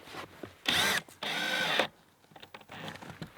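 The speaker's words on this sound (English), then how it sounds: "I need to use a drill to undo this lock thing" A power drill undoes a warped door lock, whirring in two close, loud bursts, the second longer, with softer clicks and handling noise between them.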